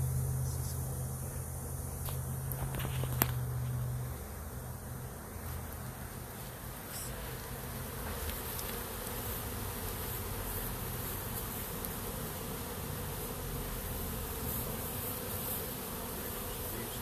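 A dense, steady buzz of many honeybees fills the air close by around an open hive, droning continuously with occasional louder passes and soft handling noises.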